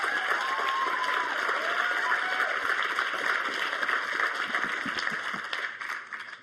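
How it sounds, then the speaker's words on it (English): A live audience applauding one another, a broad, sustained wash of many hands clapping at a steady level for several seconds, with faint whoops mixed in before it tapers off slightly at the end. "Applaud yourselves."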